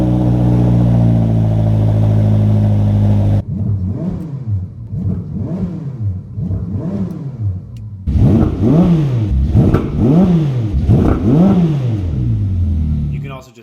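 A 2021 Ferrari SF90 Stradale, a near 1000 HP car, starting up: after a steady low hum, the engine fires with a series of revving surges, then settles into repeated louder revs close by.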